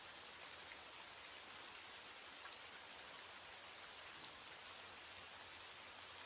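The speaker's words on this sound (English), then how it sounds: "As the rain falls and the night deepens" Steady rain falls on a surface as a dense, even hiss with faint droplet patter. It runs throughout at a constant level, with no voices.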